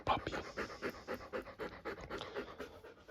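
A Bernese mountain dog pants rapidly and close by in a steady rhythm of quick breaths, with no one speaking.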